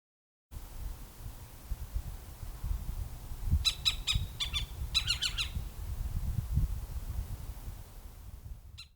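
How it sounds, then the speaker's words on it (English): A little owl calls from a rocky landscape on Lesbos in late May, giving a short run of thin, repeated squeaky notes in two bursts over a steady low rumble of background noise. "Waiting to greet us there was this little owl."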